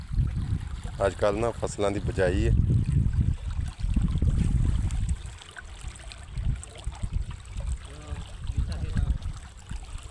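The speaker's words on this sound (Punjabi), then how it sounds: "ਪਾਣੀ ਫਸਲਾਂ ਨੂੰ ਲੱਗ ਰਿਹਾ।" Irrigation water runs steadily into village crop fields at sowing time, a soft continuous flow heard beneath people talking nearby.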